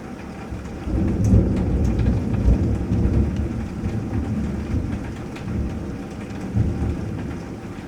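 A heavy thunderstorm in the early evening, with dense steady rain pouring down and deep rolling thunder rumbling through it, loud and continuous with no voices.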